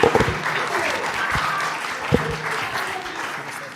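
Applause for children at a municipal council meeting, a steady crowd clapping that holds for several seconds with a few sharper claps standing out, and faint voices beneath.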